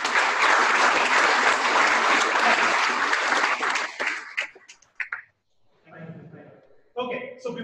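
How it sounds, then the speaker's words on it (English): An audience claps loudly and continuously for about four seconds, then the applause dies away into scattered claps and a few voices. "I think the clapping was a great energizer. Maybe we could do that once more"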